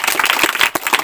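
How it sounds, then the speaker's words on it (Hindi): Children in a classroom clap together during a quiz, a dense, fairly loud patter of hand claps for about a second with a short dip near the end. "जोरदार तालियां इनके लिए"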